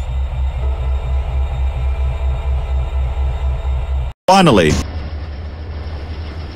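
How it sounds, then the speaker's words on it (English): A freight train pulling out of Salt Lake City gives a steady low rail rumble, then a sharp bright burst of squealing tonal sound that fades into a quieter hum, with a voice speaking briefly over it. "waiting to depart Salt Lake City with his freight train"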